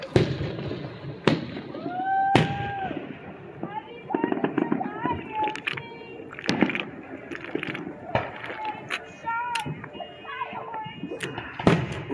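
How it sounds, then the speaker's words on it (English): Rosemead Park Fourth of July fireworks in 2022 pop and crack repeatedly from a short distance, with rapid crackling runs and sharper booms spread irregularly through the stretch, while people talk in the background. "we got a little bit of fireworks"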